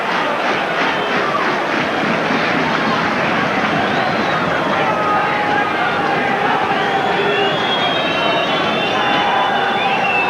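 Dense, steady roar of a rugby league crowd reacting to a penalty award at a 1982-83 Hull KR versus Leigh match, loud and continuous throughout with no clear breaks.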